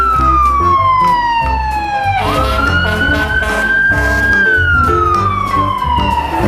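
Toy fire truck siren, loud and close, a wailing electronic tone that sweeps down, rises and holds, then falls again over a mechanical rattling background.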